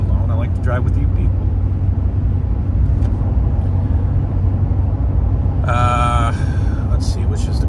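A car driving along a road, a steady loud engine and road rumble from inside the cabin throughout, with a brief higher tonal whine partway through.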